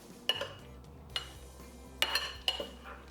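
Tofu tossed with garbanzo bean flour in a bowl, a handful of sharp clinks and knocks of utensil against the dish, spaced irregularly over a quiet background.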